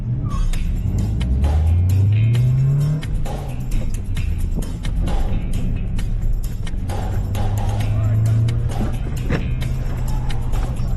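A car on an autocross run roars close and loud, the engine rising in pitch through the gears, with repeated bursts of acceleration and steady engine drone throughout.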